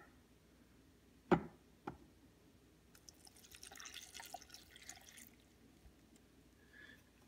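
A cup of water poured over about six or seven ice cubes in a Breville the Boss blender jar: a couple of sharp clinks, then a soft, fairly faint splashing pour lasting a couple of seconds in a quiet room.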